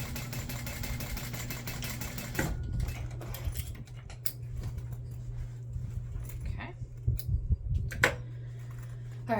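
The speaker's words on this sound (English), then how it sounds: "we're going to sew that with a 1/4 inch seam allowance" A sewing machine stitching a quarter-inch seam on a fabric bag, its steady motor hum running close and moderately loud for most of the span, with light handling clicks and rustles over it.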